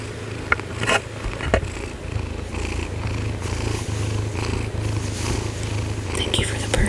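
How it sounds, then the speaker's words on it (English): A cat purrs steadily and close to the microphone throughout, a continuous low rumbling drone with a few soft clicks and rustles over it, in a quiet bedtime room. "Thank you for the purrs, Ed."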